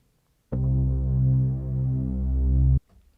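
A steady, buzzy basic synthesizer wave from a single layer of the Noizefield Instruments Cinematic Cyberwave instrument, rich in harmonics, holds for about two seconds, then cuts off abruptly; loud and alone.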